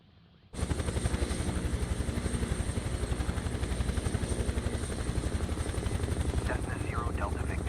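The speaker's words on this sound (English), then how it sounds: "Yeah, helicopter for sure." A helicopter in Microsoft Flight Simulator 2024 spools up abruptly, then runs with a loud, fast, steady rotor thump over a deep engine drone, with faint radio chatter near the end.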